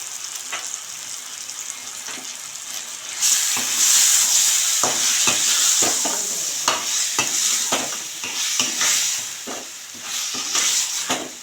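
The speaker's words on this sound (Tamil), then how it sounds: "அரை கிலோ சிக்கனை போட்டுக்கோங்க" Half a kilo of plain chicken fries in a pan for chicken gravy, giving a loud continuous sizzle that swells after a few seconds, with frequent spatula scrapes and clacks against the pan and no talking.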